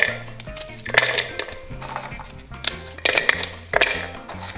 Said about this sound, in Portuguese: Começamos numa picadora por triturar as bolachas